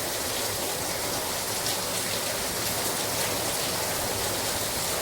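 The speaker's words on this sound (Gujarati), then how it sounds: "મુસળધાર વરસાદ શરૂ થઈ ગયો છે." Torrential rain falls on a road trip near Gundarna, Gujarat, a constant, fairly close hiss and patter of heavy drops on surfaces, even and unbroken with no voices.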